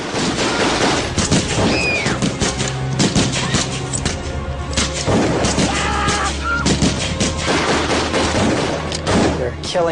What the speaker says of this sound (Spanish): Y fue entonces cuando oí los disparos.